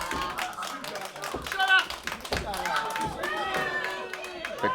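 Sharp, irregular applause from a wrestling crowd in Campbell River rattles through, with voices talking over the clapping.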